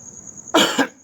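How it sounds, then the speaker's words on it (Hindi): A single harsh cough, doubled into two quick bursts, from a man with a cold, loud and close after a moment of near silence. "हल्की सी तबीयत सही नहीं है, खांसी है, इसके कारण थोड़ा आपको डिस्टर्ब होता होगा बीच में"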